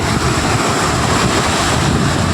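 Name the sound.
flood water current rushing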